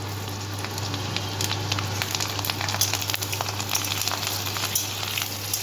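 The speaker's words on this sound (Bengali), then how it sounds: "সসটা করার জন্য আমি তেলের মধ্যে প্রথমে দিয়ে দেব গার্লিক" Garlic fries in hot oil as the base of a chili garlic chicken sauce, giving a steady, dense, close sizzle throughout with no voices.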